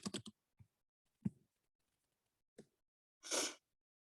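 Typing into a search box on a computer keyboard: a few soft, scattered key clicks and taps with gaps between them, ending in a brief louder burst, all quiet and close with no voices.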